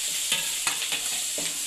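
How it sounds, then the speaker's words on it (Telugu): Onions, green chillies and curry leaves fry in hot oil with a steady close sizzle, broken by a few stirring scrapes of a spoon against the pan. "అందులో ఉల్లిపాయలు, పచ్చిమిర్చి, కొద్దిగా కరివేపాకు వేసుకోవాలండి. ఇవి వేగిన తర్వాత"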